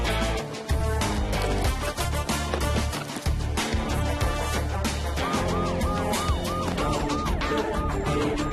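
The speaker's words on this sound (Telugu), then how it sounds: "అన్నా, పోలీసులో ఉన్నారు, సైరన్ కొడుతున్నారు." A police siren wails over dense, loud film-score music and engine rumble, its rising and falling tone cycling repeatedly in the second half of the scene.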